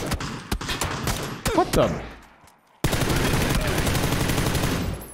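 Rapid gunfire in the battle royale game PUBG, sharp shots in bursts then a sustained stretch of automatic fire, loud and close, with a brief startled voice over the first burst.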